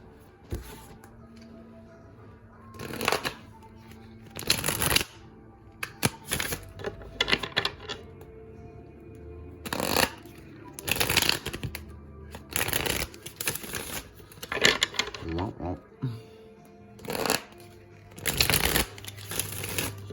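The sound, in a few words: shuffling tarot cards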